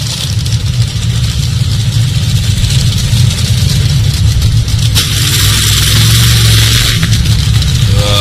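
Injected nitro Top Alcohol Dragster engines running together at the drag strip start line, a loud constant deep rumbling roar close by, rising somewhat in intensity partway through.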